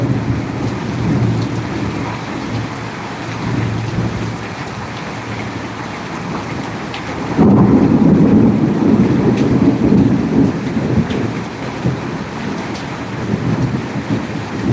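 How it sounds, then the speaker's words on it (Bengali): Hail pelts down in a heavy thunderstorm in Mirpur, Bangladesh, a steady dense roar of rain and ice that grows louder and closer halfway through, with rumbling low energy underneath and no voices. "এখন কিন্তু শিল পড়ছে আমি শিল পড়ার শব্দ পাচ্ছি"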